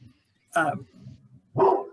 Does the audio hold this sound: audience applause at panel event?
no